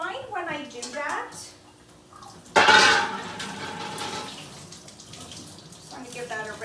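Salted eggplant rinsed under running water in a kitchen, a sudden loud gush of splashing that softens into a steady trickle, with a person talking over it.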